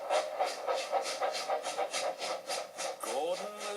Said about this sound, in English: Gordon moved slowly out of the station, pulling the train and Thomas with him.